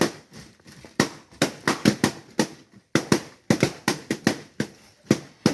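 Balloons are burst one after another with a knife after a Diwali function at home, giving a rapid series of sharp, loud pops like firecrackers, irregularly spaced and close by.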